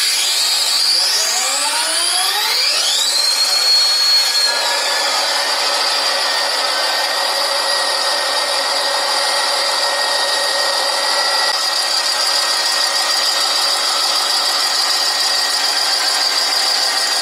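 A General Motors diesel engine with three valves per cylinder runs loud and steady up close, its dense mechanical roar holding throughout after a rising whine at startup.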